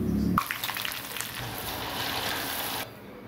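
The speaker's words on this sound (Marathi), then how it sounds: "आता आपण कांदा काढू आणि असं सर्व बाकीचे राहिलेले तळून घेऊया पदार्थ" Leftover chivda ingredients hit hot oil in a kadhai and break into a steady, bright deep-frying sizzle that holds for a few seconds and then cuts off abruptly.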